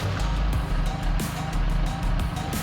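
A BMW car engine runs at a steady, close idle with a low, even rumble and faint ticking on top, continuous for the whole stretch with no voices.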